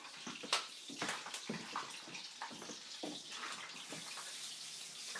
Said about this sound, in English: Now what you're hearing is the grease from Mom frying up the tortilla.